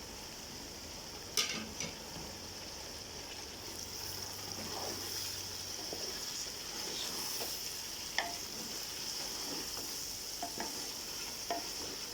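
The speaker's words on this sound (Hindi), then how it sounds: "अब मैं इसमें डालने लगी हूँ टमाटर" Tomatoes go into a pan of frying potatoes and bottle gourd, giving a steady moderate sizzle with scattered stirring clicks and scrapes throughout, and no one speaking.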